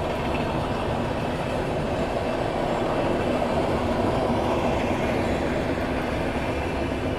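An express train racing past at high speed on a 130 km/h main line in India, a continuous loud rushing roar with rattling wheel noise that persists without a break, with no talk.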